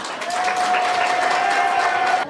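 A crowd applauding the large team from Thung Pho at a Gano Excel walk rally event in Kabin Buri, Thailand, with brisk continuous clapping and a steady tone sustained underneath before it cuts off.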